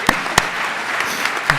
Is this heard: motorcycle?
no